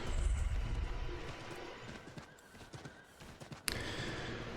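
Horse hooves clip-clop in Assassin's Creed 3, a steady galloping patter under in-game ambience that breaks off with a sharp thump near the end.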